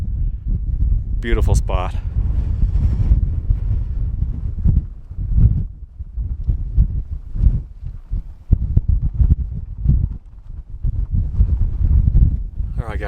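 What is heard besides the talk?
strong wind on a mountain peak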